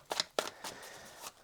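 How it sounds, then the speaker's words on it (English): A deck of tarot cards is shuffled up close in four or five crisp riffling bursts, each a brief papery rustle, with quiet pauses between them and no talking. "Apparently I'm a very loud shuffler"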